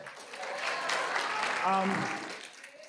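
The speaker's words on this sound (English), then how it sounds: "you don't need to applaud unless you want to" A church congregation at a Sunday celebration service applauds as names are read, moderate, even clapping rising and fading over a few seconds with a voice speaking through it.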